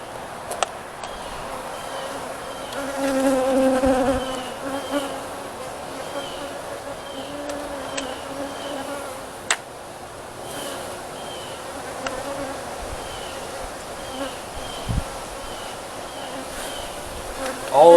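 Honeybees buzzing from a hive built inside a deer feeder, a steady near drone with individual bees passing close, plus a few faint knocks and clicks.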